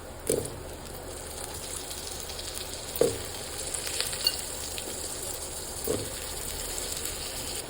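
Potatoes go into a pan of cooked spice paste for a Persian-style dish, with a soft, steady sizzle and a few distinct stirring scrapes and knocks from a spoon, fairly quiet and without talk.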